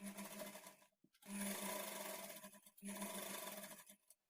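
Sewing machine stitching a blouse lining at a half-inch margin, running in two steady bursts of near, continuous whirring with a short pause between them and no talk.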